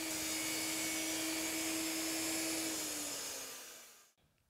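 Table saw cross-cutting a board held against the miter gauge, a loud steady high whine that drops slightly in pitch near the end and cuts off abruptly, with no talking.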